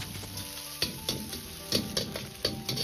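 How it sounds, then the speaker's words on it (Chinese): Pork belly strips stir-frying in hot oil over medium-low heat, a faint continuous sizzle punctuated by rhythmic clinks and scrapes of a spatula tossing the meat in the wok. "油热后保持中小火，下入切好的五花肉丝煸炒"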